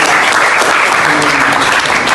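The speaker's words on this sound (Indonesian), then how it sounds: "tepuk tangan untuk" Dense, steady applause from an audience at a biology clinic session, loud and continuous throughout with no gaps or talk on top.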